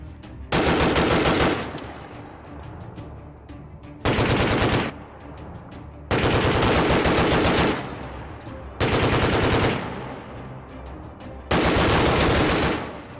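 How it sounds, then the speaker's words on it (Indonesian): An M2 Browning heavy machine gun fires four long, loud automatic bursts, each a rapid hammering of heavy rounds lasting one to two seconds, separated by brief pauses filled with lingering echo. "M2 telah dioperasikan di seluruh dunia sebagai senapan mesin anti pesawat"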